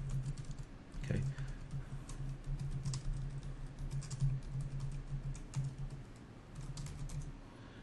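Steady computer keyboard typing while entering PHP CodeIgniter code, rapid close key clicks running continuously over a low hum, with faint speech at moments.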